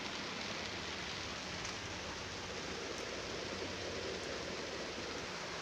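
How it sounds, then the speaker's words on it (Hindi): Heavy rain falls steadily near the Ma Tarini Temple at Ghatagaon in Keonjhar District, a dense, even hiss of drops on surfaces, fairly faint and unbroken, with no voices. "केते जोर से वर्षा होचे"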